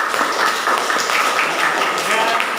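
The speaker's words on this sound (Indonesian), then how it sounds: "Sekali lagi beri aplaus untuk kelompok 4." A classroom group claps for group 4, a steady patter of many hands applauding at moderate volume without pause.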